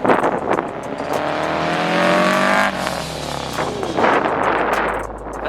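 A Subaru FRS with a loud aftermarket exhaust drives past on a windy California road, its engine rising in a strong rev and then easing off, loud and close with wind noise throughout.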